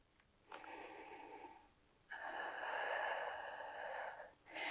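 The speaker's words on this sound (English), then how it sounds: "Exhale it up." Forceful breath exhaled through the nose and mouth during a prenatal Pilates exercise: a short breathy push, a pause, then a longer, louder rasping exhale close to the microphone, with no talking.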